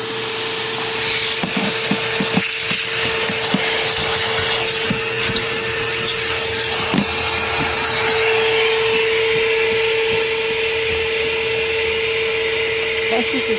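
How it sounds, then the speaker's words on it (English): A vacuum cleaner drones steadily and loudly close by while cleaning small crevices inside a 2015 Ford Transit Connect passenger wagon, with a few knocks and bumps along the way. "today I'm vacuuming out all these little nooks and crannies."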